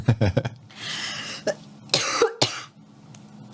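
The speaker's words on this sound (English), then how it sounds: "Not having a cough at a time like this." Several sharp coughs, a quick cluster at the start and a few more spaced hacks later, close by with quiet pauses between.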